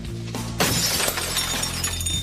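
Glass shatters loudly as a hardware store is broken into, one sharp crash followed by a spray of falling shards and tinkling debris over a low rumble.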